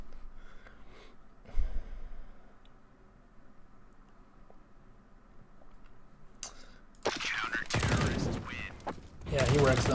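An SG rifle fires in a Counter-Strike match demo between pro teams Fnatic and mouz. After a quiet stretch with faint breathing-like noise, rapid bursts of loud gunfire crowd the last few seconds.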